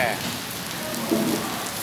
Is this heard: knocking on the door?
no